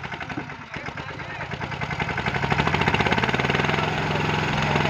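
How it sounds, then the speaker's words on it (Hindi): A Sonalika 717 tractor engine running under load, a loud rhythmic diesel thumping that builds and quickens, with someone talking over it. "भाई ये वो ट्रैक्टर है जिसका कोई पावर नहीं।"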